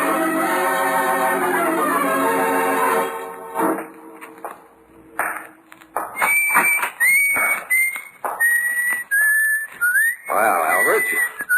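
A man whistles a cheerful tune in short, sliding melodic phrases after a sustained ringing tone, in the 1945 radio mystery drama The Haunting Hour.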